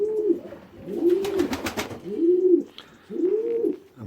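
A white bar Lebanon pigeon cock with a frill stencil coos in a loft, giving repeated rolling, throaty coos in a steady rhythm. The bird is close, with faint flutter or shuffling between calls.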